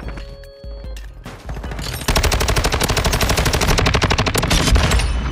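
Rapid automatic gunfire from an STB 556 rifle in the shooter game Modern Warfare 2, a loud, dense burst of evenly spaced shots that runs continuously for several seconds after a brief quieter lead-in.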